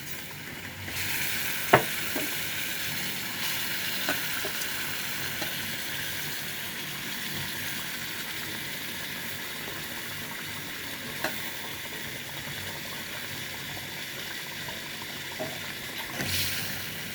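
Country chicken frying in a pan with spices and bay leaves, a steady broad sizzle throughout with occasional sharp utensil clicks from stirring, close and unbroken, without talk.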